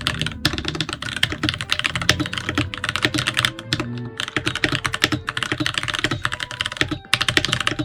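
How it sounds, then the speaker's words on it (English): Rapid typing on a modded mechanical keyboard, a close, dense stream of crisp clacky keystrokes with short pauses between bursts, recorded alone without talking. "want to hear what my keyboard sounds like now"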